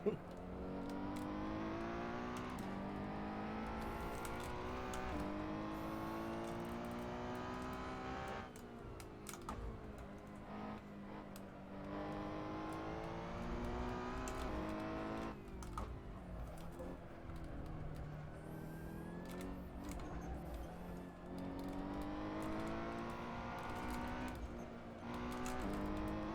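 A race car engine in Assetto Corsa at VIR revs hard through the gears, pitch climbing repeatedly then dropping at each shift and braking zone, with keyboard-like clicking throughout.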